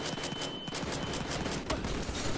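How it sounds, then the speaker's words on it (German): Rapid pistol gunfire in the video game Battlefield Hardline, a dense string of sharp shots rattling off in quick succession over a couple of seconds, fairly loud with no talk. "mit der Pistole mache ich sie alle fertig"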